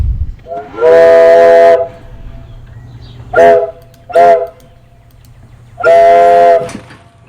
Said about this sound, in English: that was the train whistle on the back porch for you